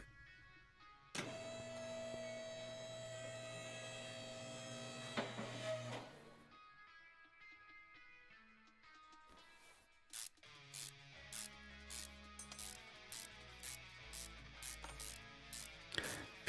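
A car lift being lowered in the video game Car Mechanic Simulator 2026, a steady mechanical hum and whir that runs for several seconds, then a series of rhythmic ratcheting clicks and clunks as it settles, with no talk.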